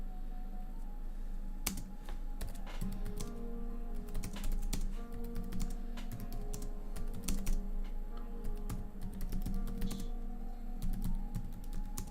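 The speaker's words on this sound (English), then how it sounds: "I hope that the tapping noise, the typing noises also enhances the experience of all of this." Computer keyboard typing during a homework stream, an irregular run of quick close key taps and clicks over a low steady hum, with no talk.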